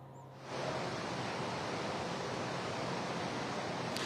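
The floodwaters of the Sahastradhara river near Dehradun, swollen after a cloudburst, rush in a steady, dense roar that swells in after half a second and continues unbroken.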